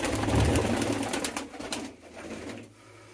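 Soft, low pigeon cooing at close range, strongest in the first second, then fading into quieter rustling.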